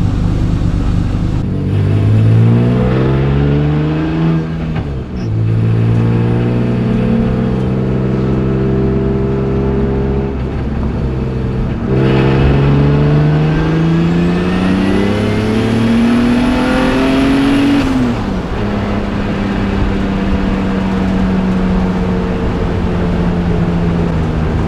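A warmed-up car makes test runs, its engine revving and accelerating loudly through repeated rising pulls and gear changes. The strong, continuous roar sits close, with no talk over it.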